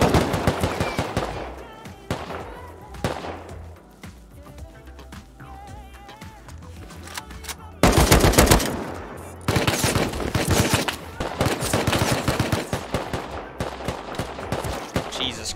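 In the Rust video game, an AK assault rifle fires in rapid automatic bursts, with heavy sustained fusillades and short pauses between volleys, and a player talks during the firefight.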